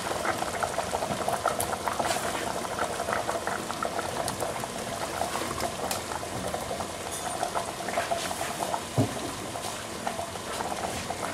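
Chicken and potatoes simmer in a pot of hot water, bubbling and crackling continuously at close range.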